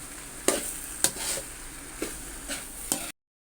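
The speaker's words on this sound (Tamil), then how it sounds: "நல்லா இப்படி கிளறி விட்டுக்குங்க" Egg macaroni being stirred in a sizzling pan, a steady fry hiss with about five distinct scraping spatula strokes spaced roughly half a second apart, then abrupt silence.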